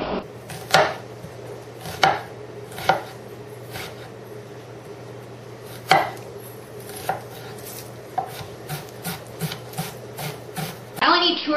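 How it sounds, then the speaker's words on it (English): A knife chops through onion on a cutting board in a home kitchen, with irregular sharp knocks spaced out over the clip, then a quicker run of lighter chops near the end, while a low steady hum runs underneath. "I'm gonna chop up some onion."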